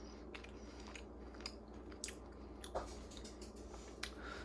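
Someone chews cooked marinated duck meat close up, with soft, moist squishing and a few small crunchy bites, quiet and without talk.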